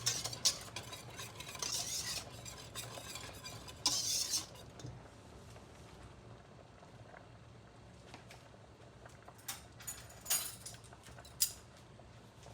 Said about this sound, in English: And let's stir that in